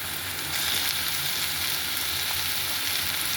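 Onions sauté in a pan for a prawn thokku, making a dense, even sizzle that grows slightly louder after a moment and holds steady.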